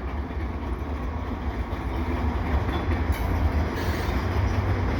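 CPKC freight train led by an ES44 locomotive rolling past, a loud continuous rumble of wheels and cars with faint clickety-clack, close by and steady.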